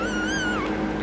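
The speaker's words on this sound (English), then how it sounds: "So Mama's cat's kittens are 1 week old" A one-week-old calico kitten gives a single high, thin meow that rises and then slides downward, loud and close against steady background noise, with no talking.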